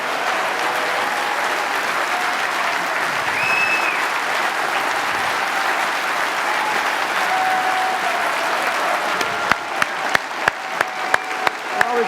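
Clapping from a rally crowd in Westminster fills the room as a steady, dense wash of applause, with a few sharper nearby claps standing out toward the end.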